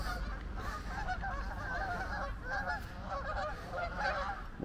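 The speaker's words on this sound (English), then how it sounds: "You're never far away from a Canada goose." A flock of Canada geese honking continuously in a town park, a dense overlapping chorus of calls at moderate loudness with no pauses.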